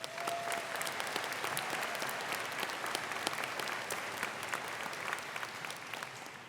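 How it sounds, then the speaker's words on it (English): Audience applause fills a hall at the SUNY Fredonia 2023 afternoon commencement for honored faculty, a dense, continuous clatter of many hands with sharper individual claps standing out, fairly quiet in level throughout. "Give them a round of applause,"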